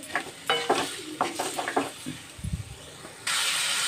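Bottle gourd and potato curry is stirred and sautéed in a pan, with scraping spoon strokes and soft clinks over a low sizzle, then a sudden broad hiss near the end.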